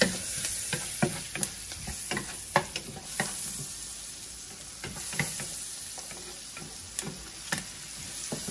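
Onion and garlic sauté in a hot pan, a continuous close sizzle broken by frequent sharp clacks and scrapes of a utensil stirring them, with no talking.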